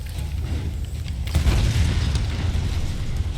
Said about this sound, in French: Mais il nous faut une plus grosse explosion.